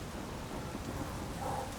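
Rain heard as a dense, continuous wash of patter with a low rumble beneath it, played as a sound effect during a tabletop role-playing session, with no talking over it.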